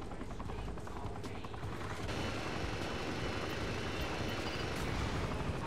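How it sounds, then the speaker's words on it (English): An enemy helicopter in Saints Row: The Third Remastered roars overhead, a loud, dense thrum of rotor chop and engine noise that holds steady for several seconds amid the game's action. "Oh, enemy chopper."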